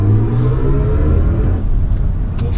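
A 2024 BMW i5 M60 xDrive electric car accelerating hard in sport mode, a loud close whirring rumble of road and motor noise that holds steady, with a few faint clicks.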